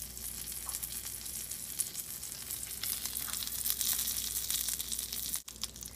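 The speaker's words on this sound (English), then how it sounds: "you hear that little sizzle" Fish sizzles and crackles in hot olive oil, a steady hissing fry up close with small pops and a brief bump near the end.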